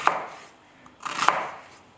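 A knife cuts an onion into strips on a cutting board, giving two crisp, close chops about a second apart, with no voices.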